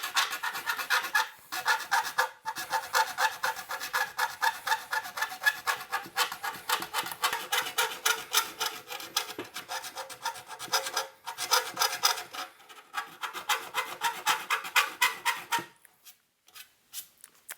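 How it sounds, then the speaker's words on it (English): Hand file rasping around a punched hole in a metal tube-amplifier chassis to bevel it for a power switch, steady rapid back-and-forth strokes close up for about fifteen seconds, then stopping. "we're going to get our friend the file and go around this hole, putting a bevel on it"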